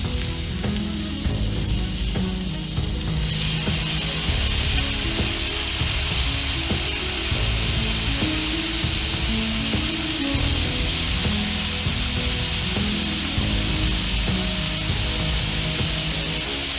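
Shrimp sizzle loudly and steadily on a hot grill, a close, continuous crackling hiss that brightens partway through as more hit the grates.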